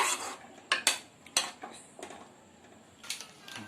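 A spoon scrapes and clinks against a pan in irregular strokes as cream is stirred into paneer butter masala gravy, with quiet gaps between the metallic taps.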